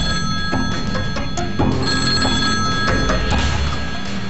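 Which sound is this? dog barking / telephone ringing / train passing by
telephone ringing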